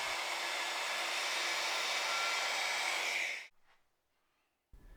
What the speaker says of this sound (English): I'm going to start with a router in the corner of those steps just to give me a nice sharp edge to work from